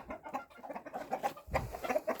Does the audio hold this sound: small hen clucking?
yes